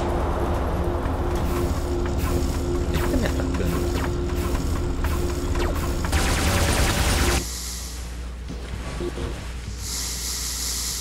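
Rapid, continuous energy weapon fire from a robot in the game War Robots rattles and hisses loudly for several seconds, then cuts off, leaving a lower electronic hum.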